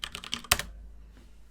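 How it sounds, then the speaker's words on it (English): Typing on a computer keyboard while entering a search on Amazon: a short run of crisp key clicks, then one louder keystroke, close and clear with no talk. "Now let's go to the Amazon really quick and type in iPhones."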